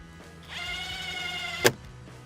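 A power driver sinks a small screw into porch boards: one steady whirring burst lasting about a second, ending in a sharp thunk, close and alone.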